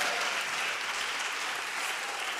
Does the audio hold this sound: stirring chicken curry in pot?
no